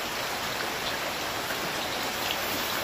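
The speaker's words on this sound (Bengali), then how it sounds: "জোরে কথা বলে, জোরে শোনা যাবে না যা বৃষ্টি হচ্ছে।" Heavy monsoon rain pouring down outdoors during early-season cooking, a dense, unbroken roaring hiss that stays constant and close throughout with no voices.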